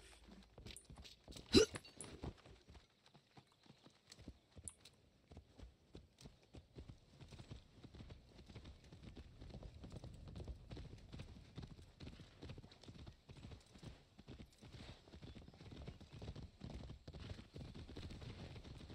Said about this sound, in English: Wait, here's my horse.